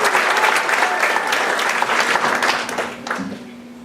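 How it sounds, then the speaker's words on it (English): Audience applause fills a singing competition venue, a dense burst of clapping from a crowd that holds steady and then thins out toward the end. "Nice round of applause, please."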